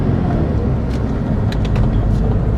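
A BMW Z3 cruises along the road with a steady low engine drone and road rumble heard from inside the car, with a few faint ticks and knocks.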